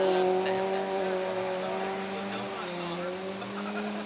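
Side-by-side off-road vehicles race through mud at an autumn event in Middle Stewiacke, Nova Scotia, giving a steady, loud, high whining engine drone that holds throughout as people talk over it nearby.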